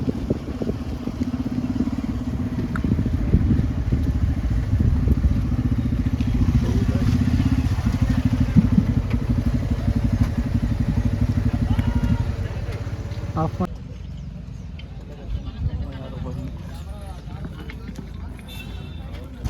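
A motorcycle on the ride to Koodlu Falls holds a steady, close engine rumble for most of the stretch. Near the end it drops to a quieter, thinner drone.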